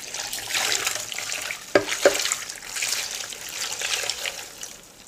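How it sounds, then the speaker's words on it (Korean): Brown rice vinegar and soju pour over cucumbers in a container with a soft, steady splashing trickle and two small knocks partway through. "현미식초 3컵에 소주 1컵을 부어서 섞어주세요. 그리고 오이에 고르게 부어주세요."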